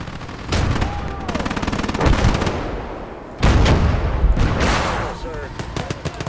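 Loud close bursts of rapid machine-gun fire in a video game battle, two long volleys with a brief lull between them and heavy booming shots mixed in, while voices talk over the fighting.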